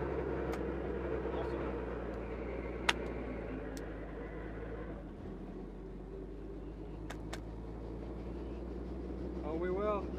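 Steady low engine drone and rotor hum inside a helicopter during a passenger ride, running continuously under nearby talk with a few brief clicks.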